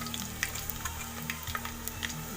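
Garlic and mustard seeds sizzle steadily in hot oil for a tempering, with small crackles and pops scattered over a constant frying hiss, close and moderately loud.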